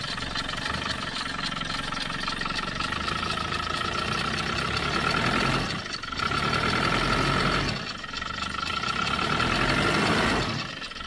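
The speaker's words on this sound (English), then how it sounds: "I suspect that's not firing on all four. It's a bit noisy, isn't it?" An old works vehicle's four-cylinder engine idles roughly, apparently misfiring, with a noisy, steady, close-up running note, a throttle cable fitted and slack belt tension, holding continuously with brief dips near six and eight seconds.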